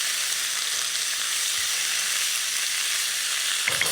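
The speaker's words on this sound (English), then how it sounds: "And what I like to do now is just give that a good stir on high heat." Red curry paste stirred and frying on high heat in a pan makes a loud, steady hissing sizzle that never lets up, with a slight shift in the sound near the end.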